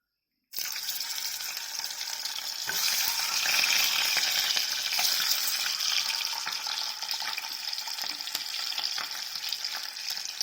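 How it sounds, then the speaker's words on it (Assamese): Eggs fry in hot salted mustard oil in a wok, a loud, dense crackling sizzle that starts abruptly and carries on steadily up close with no talk. "এতিয়া কণীকেইটা ধুনীয়াকৈ ফ্ৰাই কৰি ল'ম"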